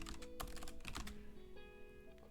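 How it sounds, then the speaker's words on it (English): Quick clicking keystrokes on a computer keyboard, quiet and close, in a brief irregular burst over a low background hum. "Wow, typing today is good."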